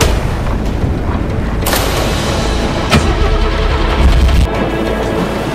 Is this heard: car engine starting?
yes